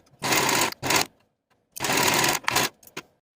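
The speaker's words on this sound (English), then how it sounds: "Sew with a 5/8 inch seam allowance and press your seams toward the yoke." A home sewing machine stitching a yoke seam on a tee shirt, running in several loud close bursts with brief stops in between.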